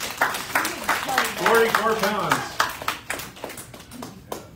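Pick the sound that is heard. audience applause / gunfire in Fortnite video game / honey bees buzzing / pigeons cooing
audience applause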